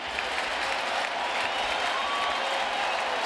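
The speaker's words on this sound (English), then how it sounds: "Crowd getting into it." Dense, steady roar of a baseball stadium crowd cheering and clapping at Yankee Stadium during a full-count, two-out pitch, a continuous wash of noise with no clear talk.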